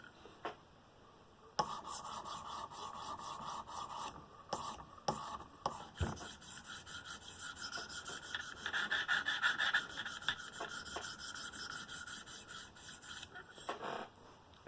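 A knife blade drawn across a 300 grit stone on a KME sharpener, a steady close rasping scrape in long continuous passes, broken by a few brief pauses and clicks.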